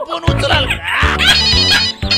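A loud electronic phone ringtone plays a repeating melodic tune, close and clear, with no voices.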